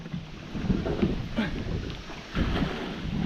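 Water sloshing in small, choppy waves inside something filled with water, a steady wet churn with a few stronger surges and some wind buffeting the microphone.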